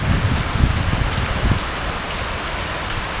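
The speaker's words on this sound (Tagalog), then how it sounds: "Grabe, lakas ang ulan." Steady heavy rain roars with dense patter on surfaces in Bahrain, loud and close, with a few heavier thumps early on.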